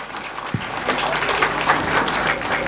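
A school crowd at a 70th Republic Day celebration in Nandiya Jajara claps loudly and continuously, a close, dense roar of applause that fills the whole moment.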